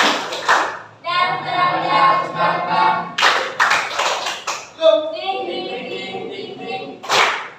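A classroom group claps in quick rhythmic bursts, interleaved with loud voices chanting or shouting along, close and energetic.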